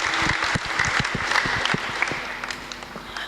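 An audience applauds a singer at a church choir gathering, a lively burst of clapping with distinct individual claps, fairly close and continuous, tapering slightly toward the end.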